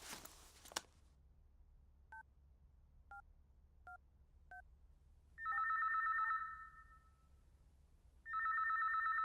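A telephone is dialed and then rings: a short burst of noise, four evenly spaced keypad beeps, then a steady electronic ringback tone in two long, loud pulses against a quiet background.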